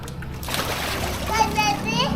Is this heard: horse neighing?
no